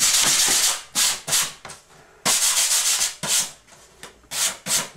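Sandpaper rasps against a wax recording cylinder as it is reamed, making a series of loud, close scratchy strokes in an uneven rhythm, each with brief pauses between.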